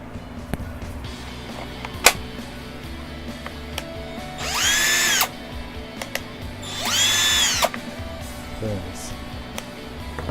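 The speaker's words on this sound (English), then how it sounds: "Hammer drill." A Teccpo hammer drill, model TDH D01P, runs in two separate bursts of about a second each: a whining, high-pitched motor that spins up, holds and winds down. Both bursts stand clearly above a quiet room background.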